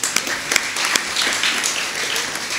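Audience applause ringing out at a church feast day celebration, a steady wash of many hands clapping at close range with no talk over it.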